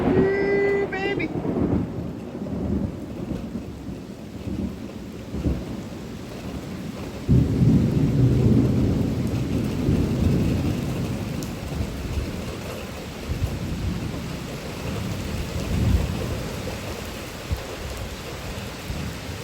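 Summer thunderstorm in Manorville with steady rain pattering down throughout and deep rolling thunder swelling loud around the middle, continuous and close with no one speaking.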